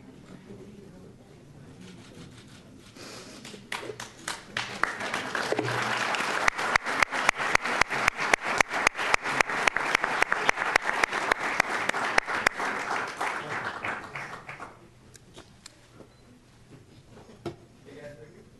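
Audience applause at the installation ceremony of a newly elected Vice Chair, building from scattered claps to a loud, dense ovation with sharp individual claps, then fading to a few stray claps.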